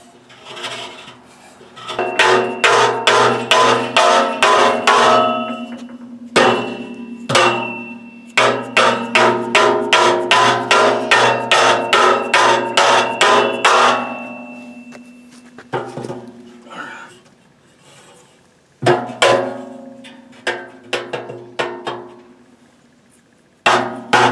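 Metal parts being hammered through into a woodburning heater with a blower, sharp ringing blows in rapid runs, then scattered single strikes with short pauses, close and loud.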